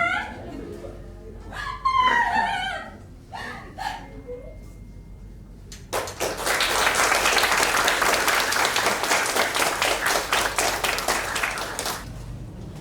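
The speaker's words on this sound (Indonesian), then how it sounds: "beri tepuk tangan sekali lagi untuk penampilan keadilan bagi bawang putih" Crowd applause after a stage performance at a school arts event, breaking out loudly midway and holding steady with a few whoops, preceded by amplified speech and laughter.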